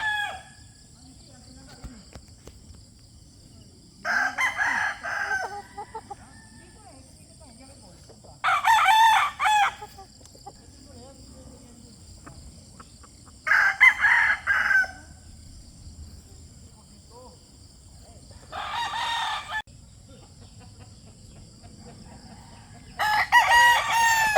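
A five-month-old young rooster, a stag, crows five times at regular intervals, each call loud and close, with quiet farmyard background between crows.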